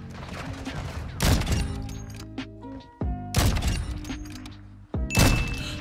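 Call of Duty shotgun blasts, three loud, close booming shots a couple of seconds apart, each followed by a ringing, decaying tail and mechanical clatter.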